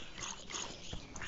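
A dog in a Minecraft SkyWars match gives short whimpering yips over a busy, steady game-sound bed, fairly close and moderately loud.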